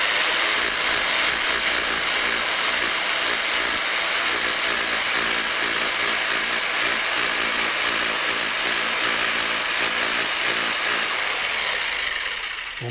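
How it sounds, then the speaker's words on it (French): A rotary hammer drill bores into a hard wall, a loud continuous grinding, rattling roar held close for the whole stretch without pause, with no speech. "Pour percer, j'utilise un marteau perforateur"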